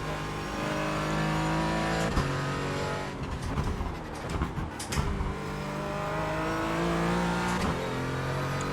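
A Porsche 718 Cayman GT4 racing in iRacing, the engine droning steadily at high revs with brief lifts and gear changes, plus a short scrubbing skid midway; no voices.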